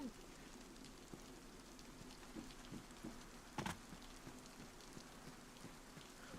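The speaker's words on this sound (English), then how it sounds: "This rain's really not..." Steady rain falling in the survival game DayZ on the Chernarus map, a constant broadband patter with scattered drop ticks and one brief louder burst near the middle, no voices.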